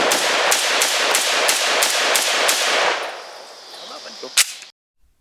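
Rapid, evenly spaced sharp cracks from an Italian BM59 rifle firing outdoors, around nine shots in quick rhythm, then fading echoes and one final louder report before an abrupt cutoff.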